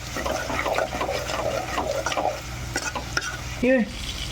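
Masala chili powder is stirred into a goat tripe curry in a pot. Close, wet scraping and mixing sounds continue steadily, with a faint sizzle beneath.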